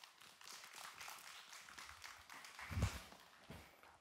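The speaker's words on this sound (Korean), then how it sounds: "박수로 맞아주십시오." Audience applause greets a student presentation team on stage at a youth environmental culture festival in Ulsan, a dense, fairly quiet patter of many hands that swells briefly near the end.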